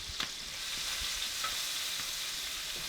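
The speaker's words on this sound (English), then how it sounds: "Okay, so I have to lightly saute these." Beef and bacon are lightly sautéed in bacon grease, a steady close sizzle and hiss with a few soft stirring taps, no talking.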